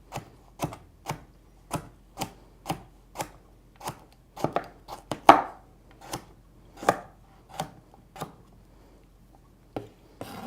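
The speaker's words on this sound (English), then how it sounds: "We're going to chop that up." Carrot being chopped with a knife on a cutting board, a run of about twenty sharp, evenly spaced knocks that bunch up faster midway, close and clear with no voices.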